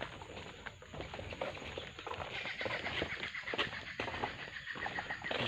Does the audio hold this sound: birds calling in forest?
yes